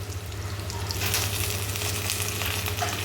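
Curry leaves frying with onions in a pan for dried-chilli chicken, a dense continuous close sizzle with a brief louder crackle as they hit the oil, over a low steady hum and no talk.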